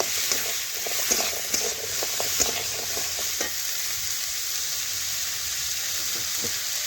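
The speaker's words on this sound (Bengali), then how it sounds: "এখন আমি কুমড়োর সাথে আদা জিরে রসুন বাটা একটু ভেজে নিচ্ছি এই দেখুন এইভাবে নাড়াচাড়া করে একটু ভেজে নিচ্ছি" Pumpkin frying in a pan with ginger, cumin and garlic paste, a steady close sizzle broken by repeated scraping clicks as it is stirred, no voices.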